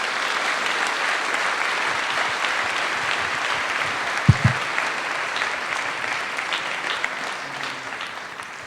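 A hall audience at Paradiso in Amsterdam claps warmly and steadily for several seconds, a dense continuous wash of applause with a single sharp knock partway through.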